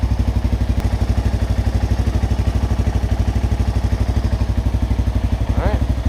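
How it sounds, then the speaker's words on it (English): A small ATV engine runs close with a steady, fast putter throughout, a brief rev lifting its pitch near the end, while a voice talks underneath. "give it a little bit of a rev"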